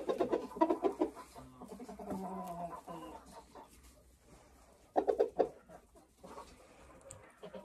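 Hens cluck in a chicken coop, close and fairly quiet, in irregular bursts of short calls with brief pauses between them.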